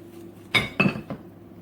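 A utensil knocks and clinks against a bowl a few times while banana pancake batter is mixed, close and fairly quiet, with short clattering strikes and no talk.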